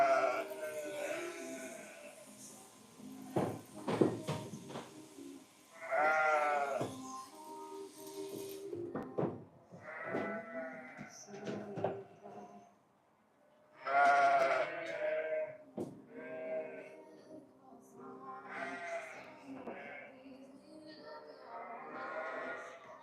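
Sheep in a pen before shearing, part of a flock of about 170, bleat repeatedly at close range in overlapping wavering calls, while some rattling and clanking sound between them.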